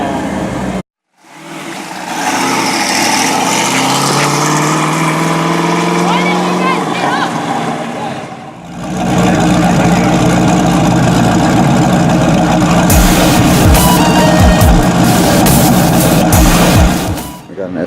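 An SSC Ultimate Aero V8 supercar idles nearby with a steady, rumbling engine note, a brief gap near the start, then a rougher, louder idle with sharp pops near the end while people talk over it.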